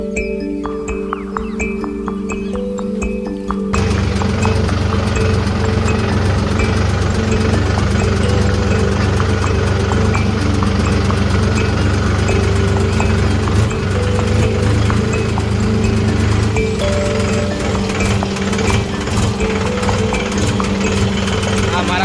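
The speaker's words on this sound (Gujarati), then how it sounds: "હું હવે ટ્રેક્ટર લઈને નીકળું છું" A farm tractor on a freshly ploughed field fires up after a few quiet seconds, then settles into a loud, steady, rumbling run with a faint knock. A voice speaks over it.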